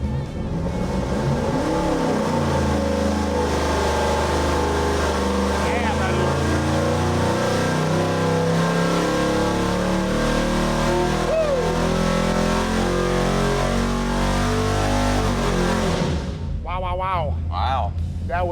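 Two big-block V8 engines coupled together on a dyno hold a loud, steady, throaty roar for most of the run, building in pitch before cutting off sharply, with voices talking over it at the finish.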